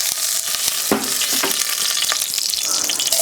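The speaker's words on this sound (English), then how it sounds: "now our Dutch oven is up to temperature, it's smoking, and we're going to go in with our vegetable oil." Vegetable oil hitting a smoking-hot Dutch oven on a Kamado Joe grill, a loud, steady close-up sizzle with a few scraping stirs breaking through.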